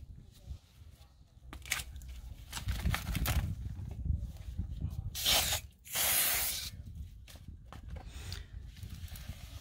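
Aerosol brake cleaner sprayed onto a brake rotor during a pad and rotor change, a few short hissing bursts followed by one longer loud spray, close by.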